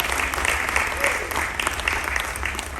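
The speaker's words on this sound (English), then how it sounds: "Can we please give a round of applause for our Space Force?" Audience applause for Space Force members at a military appreciation gathering aboard the cruise ship Carnival Freedom, a steady wash of many hands clapping close by, with some voices mixed into the crowd.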